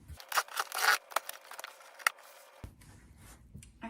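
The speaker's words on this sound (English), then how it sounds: "I have also opened these boxes with scissors" Several sharp snips and crinkly sounds of scissors cutting a cardboard box, close and fairly quiet, in quick irregular bursts, followed by a faint low rustle.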